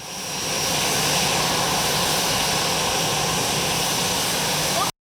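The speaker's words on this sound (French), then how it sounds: "Sur le tarmac, un Airbus A319 reçoit son baptême d'eau." Airbus A319 airliner on the tarmac at Abidjan's Félix Houphouët-Boigny International Airport during a water salute, its jet engines giving a loud, steady roar with a thin high whine that holds evenly before cutting off abruptly.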